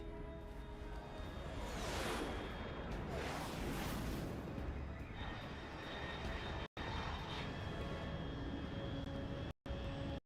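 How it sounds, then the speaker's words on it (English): A fast aircraft in Metal Gear Solid Delta: Snake Eater roars overhead, a loud sustained engine drone with sweeping whooshing passes, steady and alone without speech. "unidentified aircraft detected"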